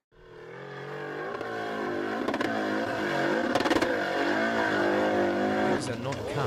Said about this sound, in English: Superpowered engines, thunderous exhausts, each twist of the throttle is an earthquake.